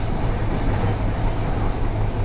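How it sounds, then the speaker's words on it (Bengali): Inside the Rupashi Bangla Express running from Dhaka toward Benapole, a low steady rumble of wheels and carriage fills the cabin, continuous and close, with no talk. "ট্রেনের গতি আস্তে আস্তে বাড়ানো হচ্ছে"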